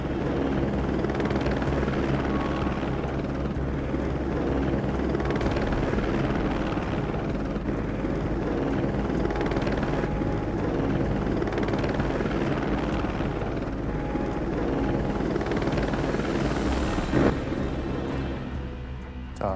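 Helicopter over the Chernobyl reactor, carrying boron, gravel and sand, with a loud, steady rotor and engine drone that fills the whole stretch and never fades, heard alone with no talk.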